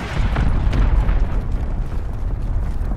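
A cruise missile strike in Call of Duty Modern Warfare multiplayer detonates as a loud, rolling explosive boom that rumbles on for several seconds with crackling bursts, and no one speaks.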